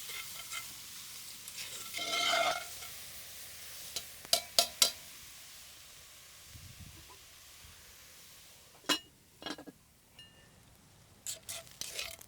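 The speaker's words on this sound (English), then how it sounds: "we're going to add the onions and the leeks and sweat them down a little bit" Onions and leeks sweat in a pot over a campfire outdoors with a faint, steady sizzle, while scattered metallic clinks and scrapes from stirring come through every few seconds.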